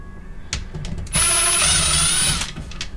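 A screw gun whirs briefly and steadily, close and loud, backing T15 Torx screws out of plastic on a C5 Corvette backup light housing, with no talk.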